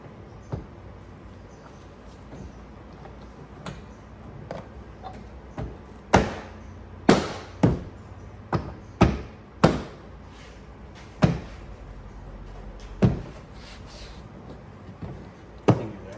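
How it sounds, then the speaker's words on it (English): A replacement smoked taillight being tapped into place on a BMW 435i, a series of sharp knocks spaced a second or so apart, some louder than others, over quiet background. "I'm gonna go tap it on the side after we make sure the tabs are aligned"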